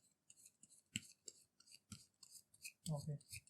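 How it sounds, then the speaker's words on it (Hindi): A deck of playing cards is shuffled close by, with a run of short soft riffles and flicks, quiet crisp snaps and a few brief louder bursts, with no talking. "मैं ये कार्ड्स को ना शफल कर रहा हूँ"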